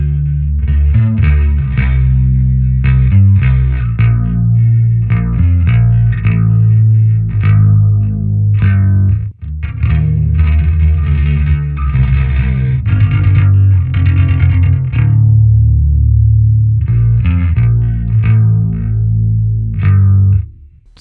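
A bass guitar riff played through a thick, wavering chorus effect on a JST Rex Brown Bassforge plugin, with some grit, continuous and loud with a brief break midway.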